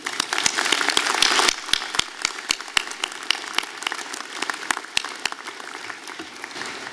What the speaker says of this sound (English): Let's give all of them a round of applause for everything that they do.